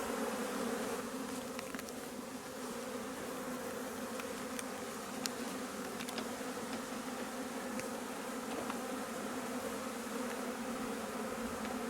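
A honeybee swarm moving into a hive makes a dense, steady buzzing hum close by, continuous throughout with faint individual bees zipping past.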